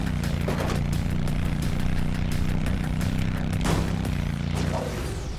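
A steady motorcycle engine drone in a Disney Infinity Marvel open-world game with Thor riding, a constant low hum with a few whooshing passes layered over it and no talking.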